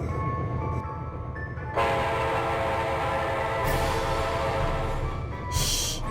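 A locomotive's horn sounds from a railway train in a long, loud sustained blast, with a second bright burst near the end, all over steady rumbling rail noise.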